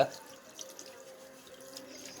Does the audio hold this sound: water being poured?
yes